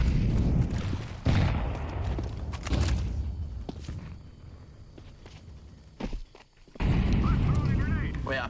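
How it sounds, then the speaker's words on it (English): A flashbang grenade detonates in a first-person shooter amid footsteps and scattered gunfire, followed by a thin high ringing tone hanging over the muffled game sound before a loud burst of action returns. "Flashbang out."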